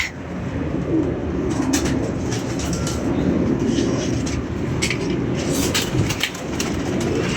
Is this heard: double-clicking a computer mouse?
no